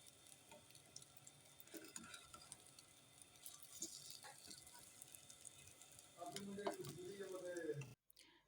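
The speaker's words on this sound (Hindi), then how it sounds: "पोटैटो चिकन कटलेट को पकाते हुए तकरीबन 5 मिनट हो चुके हैं।" Potato chicken cutlets frying in a pan give off a soft, steady sizzle and crackle with faint stirring, heard close and quiet, followed briefly by a speaking voice near the end.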